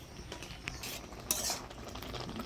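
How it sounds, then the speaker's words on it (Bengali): A taro leaf and drumstick leaf curry is stirred in a pot, with soft scraping and a few sharp clinks of a spoon against the metal over a low simmer, close and fairly quiet. "ভালো করে নাড়াচাড়া করে নিলাম।"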